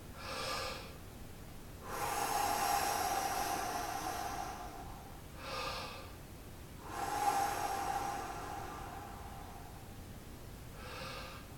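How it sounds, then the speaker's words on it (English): Two long, deep singer's breaths drawing on both abdomen and chest, each a loud, airy rush lasting several seconds, separated by shorter, softer breaths; close to the mic with no talking. "now I'll try a regular attempted singer's breath where I do both abdominal and chest"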